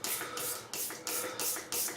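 A small spray bottle of witch hazel, aloe vera and tea tree oil is pumped repeatedly, giving five or six quick, evenly spaced hissing spritzes close to the microphone.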